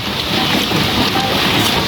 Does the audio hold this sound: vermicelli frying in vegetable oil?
no